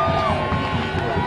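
Speedway fans at the Premier League play-off final between the Somerset Rebels and the Edinburgh Monarchs roar and cheer in a loud, continuous wall of crowd noise through the brief moment.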